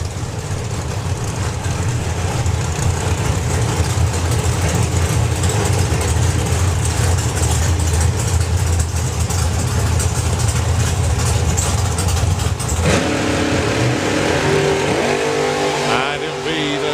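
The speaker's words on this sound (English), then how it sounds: "The Cortina will be leaving first." Drag racing cars, a Ford Cortina against a Vauxhall Victor, roar loudly and steadily at a drag strip for most of the stretch, the engine noise thinning toward the end.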